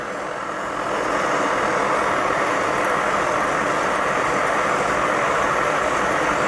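Two old Coleman pump stoves burn side by side at full output, giving a loud, steady, unbroken roar that swells in over the first second and then holds constant with no speech.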